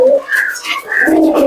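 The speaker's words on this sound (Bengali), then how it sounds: "এটা ওই পায়রা, আমার কালনুমা জেনারেশনের পায়রা। একই জেনারেশনের পায়রা।" An old-generation Madrasi pigeon coos close by, a short series of soft throaty murmured coos lasting under two seconds with no voices.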